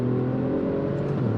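Alfa Romeo Giulia Quadrifoglio with its twin-turbo V6 under hard acceleration on a cool day, a dense, loud, close engine roar with strong steady harmonics, brief and continuous.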